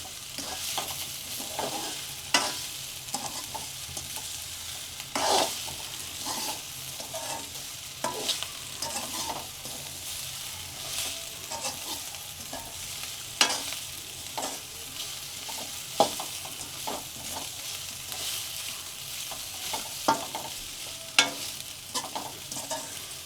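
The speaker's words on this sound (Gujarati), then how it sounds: "5 મિનિટ આવી રીતના હલાવવાનું એટલે વઘાર ઢોકળામાં બેસી જાય." A spoon scrapes and stirs tempering into cabbage muthiya dhokla in a pan with repeated clacks at an unhurried pace, under a faint steady sizzle, no talking.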